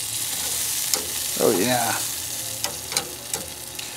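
Jalapeno poppers sizzle steadily in a hot pan as they are rolled over, with a few sharp clicks from the turning and someone speaking briefly partway through.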